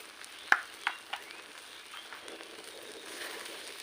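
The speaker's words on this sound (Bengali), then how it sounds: "নাড়াচাড়া করে নেব।" A spiced Maggi noodle snack mixture being stirred as it fries in a pan, with a few sharp scraping knocks early on over a steady soft sizzle, close and fairly quiet.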